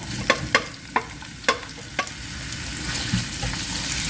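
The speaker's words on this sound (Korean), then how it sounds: "달군 팬에 기름 두르고 썰어 놓았던 청양고추, 양파를 넣어주세요." Chopped cheongyang chili and onion sizzle steadily in an oiled hot pan, with several sharp clacks of a utensil stirring early on before the frying settles into a continuous close hiss.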